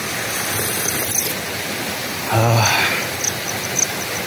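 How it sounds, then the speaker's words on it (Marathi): A forest stream flowing steadily in the woods, a broad continuous rush of water that swells briefly midway, heard close and alone. "कानावर फक्त पाण्याचा आवाज"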